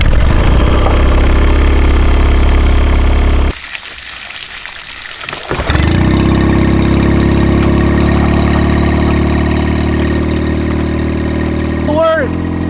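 A Mercury outboard boat engine cranks and catches, then settles into a loud, steady idle drone after a brief pause, with a rattly, broadband roar continuing to the end.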